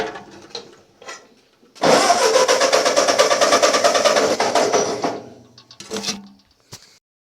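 The engine of a 1951 Ford 8N tractor cranks with the choke pulled, a steady mechanical churning that runs for about three seconds. Short knocks and clunks come before and after it, and it does not catch.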